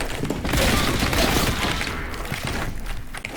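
Heavy rapid gunfire from an upgraded bolt gun in the shooter game Warhammer Boltgun, a loud dense burst of booming shots and crashing impacts, continuous and close.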